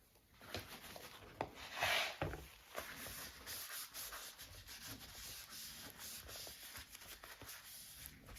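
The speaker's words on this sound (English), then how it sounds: "I just like to rub it off before it sticks to everything" Glue being rubbed off a ledger-paper art journal page by hand, producing close, continuous dry rubbing and scraping strokes with one louder swipe near the start, no talking.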